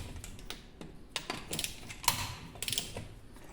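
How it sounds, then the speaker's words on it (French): A ratchet wrench loosens car suspension bolts, producing quick clicking and rattling bursts close by at moderate volume, with short pauses between runs of clicks. "je desserre tout avec ma super clé dynamo"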